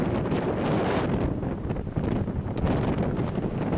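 Strong wind buffeting the microphone on a Great Smoky Mountains hiking trail near Newfound Gap, a loud, steady roaring rumble that stays constant throughout with no voices.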